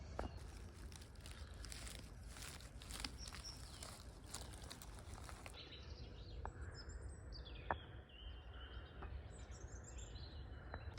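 Birds sing faintly in a very quiet outdoor spot in Munich, with sparse, thin chirps scattered over soft background noise and a few light footstep-like taps.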